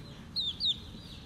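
Baby chicks give two short, high peeps in quick succession over a quiet, low background hum.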